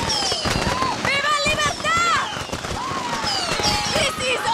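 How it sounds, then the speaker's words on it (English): Fireworks bursting in the Far Cry 6 video game, repeated crackling pops and bangs mixed with rising and falling whistles and voices, busy and fairly loud throughout. "Clara ain't have no fireworks, bro"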